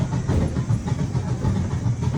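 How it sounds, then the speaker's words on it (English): Fully electric miniature-style train rolling slowly over track switches near a train shed, a close low rumble with repeated soft thumps as the wheels cross the joints. "we'll be slowing things down as we head over some train track switches"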